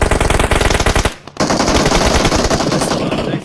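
Rapid automatic gunfire bursts in a battle royale shooter tournament match, loud dense rattling shots with a brief break before another sustained volley, with a faint voice under it.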